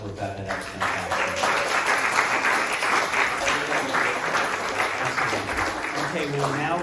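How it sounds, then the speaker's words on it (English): Audience round of applause at a live storytelling event, a dense sustained clapping wash lasting several seconds, with faint voices and background tones underneath. "Let's give one more round of applause for Rebecca."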